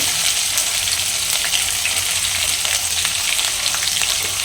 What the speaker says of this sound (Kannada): ಸೊ ಈರುಳ್ಳಿ ಚೆನ್ನಾಗಿ ಫ್ರೈ ಆಗಿದೆ